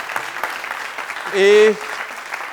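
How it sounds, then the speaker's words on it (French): Studio audience at a television comedy show claps steadily to welcome a guest named Empereur, a dense wash of applause interrupted briefly by a short sung or shouted voice in the middle. "On va faire beaucoup d'applaudissements pour Empereur qui va nous rejoindre"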